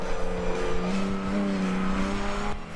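A Triumph TR5 race car with a 2.6 litre engine roars steadily and loudly at a Knockhill club circuit race, its engine note holding a sustained, rising drone close by without any talk.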